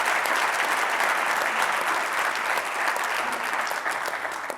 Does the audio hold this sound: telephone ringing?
no